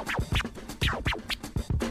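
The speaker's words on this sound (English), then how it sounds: "1-4-2 back tear to be more specific." Turntable tear scratches on a DJ setup, a quick series of rising and falling swipes in rhythmic back-and-forth bursts, close and dry with no talking.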